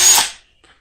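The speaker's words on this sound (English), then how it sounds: "Now we're going to drill the rest of these out" A power drill with a half-inch metal-cutting bit bores into metal during a drag truck rear-lowering build, giving a loud, short burst of grinding that fades within half a second, then a faint tail.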